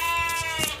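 A goat gives a single short bleat, a close, wavering cry less than a second long.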